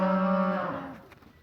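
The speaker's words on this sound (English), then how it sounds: "I don't know what the cows are yelling about up there." A cow on a farm lets out one long, loud, nearby moo that fades out over about a second, with quiet background afterward and no talking.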